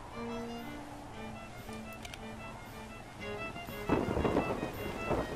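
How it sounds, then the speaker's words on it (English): Rain falling steadily in the video game Yonder: The Cloud Catcher Chronicles, with soft game music underneath and a loud rumble of thunder swelling near the end. "Oh no, it's raining."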